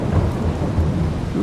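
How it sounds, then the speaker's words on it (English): A steady, loud thunderstorm in Farming Simulator 22: a continuous low thunder rumble with rolling swells over constant heavy rain, no voices. "Ooh, good thunderstorm."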